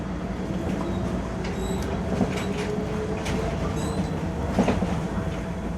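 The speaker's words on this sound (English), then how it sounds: "So this monorail is heading towards Haneda Airport." A monorail train in Tokyo runs toward Haneda Airport. A steady, close rumble of wheels and car body carries throughout, with faint high squealing tones and a slight swell near the end.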